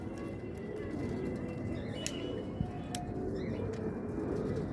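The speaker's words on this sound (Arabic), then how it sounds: "ههش فرد الحمام" Pigeons from a pigeon loft coo faintly in a noisy outdoor setting, with soft broadband background noise and brief chirps in the distance.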